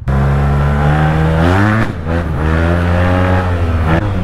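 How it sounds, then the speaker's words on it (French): Yamaha TMAX scooter fitted with an Akrapovic R6 exhaust, its engine revving loud and close, holding a steady note, then dipping and climbing again in a smooth rising and falling drone. "Un peu bruyant. Il y a un Akrapovic de R6 dessus."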